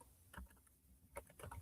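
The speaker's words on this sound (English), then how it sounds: "typing it in." Quiet keystrokes on a computer keyboard come in two short bursts of tapping with a pause between them, close by and without any talk.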